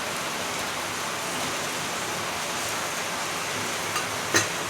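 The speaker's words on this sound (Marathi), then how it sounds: "मी बोलली ना वारा वगैरे सुटले तर पाऊस पडेल, ते बघा" Rain falling steadily outdoors on a hillside, an even broadband patter throughout with a couple of brief louder knocks near the end.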